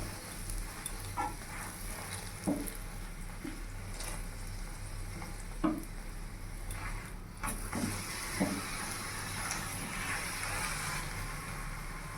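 Cauliflower paratha fries in oil on a pan with a steady, close sizzle, broken now and then by soft taps and scrapes; no one speaks.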